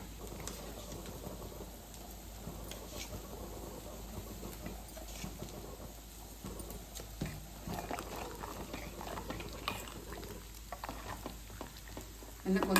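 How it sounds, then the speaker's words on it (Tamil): Sambar gravy simmering in a pot, giving a steady low bubbling and faint sizzling texture throughout, with occasional light clinks and no talk. "குழம்பு கொதிச்சிருச்சு"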